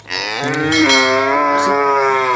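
A cow held at a farmer's home moos loudly and close, one long sustained low call with rich harmonics, heard alone.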